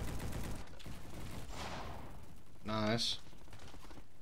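Assault rifle hip fire in the Roblox shooter Bad Business, quick rattling bursts fairly faint beneath the game mix, with a voice speaking briefly partway through.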